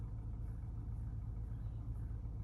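A car driving through Atlanta traffic, heard from inside as a low, steady engine rumble and road drone, quiet and unbroken with no talk.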